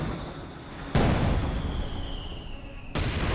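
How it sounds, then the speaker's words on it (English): ZiS gun artillery barrage in the Company of Heroes 2 strategy game: two heavy shell impacts land about two seconds apart, each a loud, close boom over a dense rumbling battle din, with a steady high whine running through. "You got a Zis barrage coming in."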